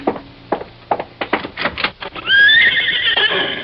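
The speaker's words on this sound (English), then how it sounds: "Why, yes, that's a horse out there." A horse lets out a loud, shrill whinny as a radio drama sound effect, preceded by a run of sharp clip-clop and knocking taps before the long rising neigh takes over.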